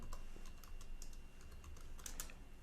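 Quiet, steady typing on a computer keyboard, a continuous run of soft close key clicks over faint room noise, with no one speaking.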